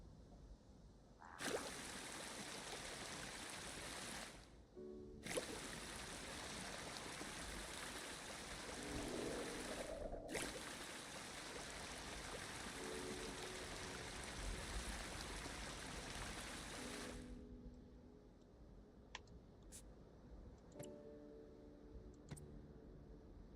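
River water flowing in the Prehistoric Kingdom video game, a steady rushing hiss with brief dropouts, ending as the flow fades and faint clicks and tones sound.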